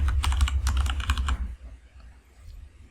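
A rapid run of close keyboard keystrokes types a folder name for 1.5 seconds, then stops, leaving a quiet room.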